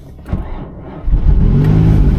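A Jaguar XJ220 supercar started by a red button cranks briefly, then fires into a loud, close, deep idle rumble that settles and holds.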